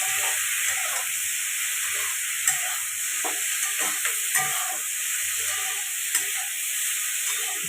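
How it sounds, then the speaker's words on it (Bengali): Potatoes and onion stalks frying in a pan with salt, a constant bright sizzle under irregular stirring scrapes and clinks, close and fairly loud, no talking. "একটু নাড়াচাড়া করে ভালো করে ভেজে নেব পেঁয়াজ কলি আলুটাকে"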